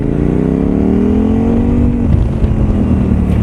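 A KTM 990 SMT supermoto motorcycle with Akrapovic exhausts, its engine note climbing steadily in pitch as it revs up and holds, loud and close, with no voices.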